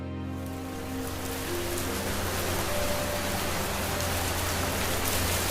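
Steady, dense downpour of heavy rain with a constant hiss and low rumble, continuous throughout without pauses, fairly close and loud.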